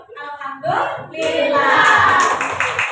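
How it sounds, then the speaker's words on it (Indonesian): Participants in a school coaching session break into hand clapping in the middle of the clip, with voices talking before it and more speech continuing under the claps. "Mari kita tepuk tangan dulu."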